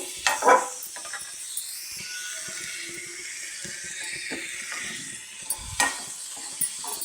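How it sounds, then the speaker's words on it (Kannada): Garlic, tomato and onion frying together in oil, a soft steady sizzle broken by occasional scraping stirs and knocks of a utensil against the pan, close and without talk. "ಟೊಮೊಟೊ, ಬೆಳ್ಳುಳ್ಳಿ, ಈರುಳ್ಳಿ ಎಲ್ಲನೂ ಒಟ್ಟೊಟ್ಟಿಗೆ ಹುರಿತಾಯಿದ್ದೀನಿ."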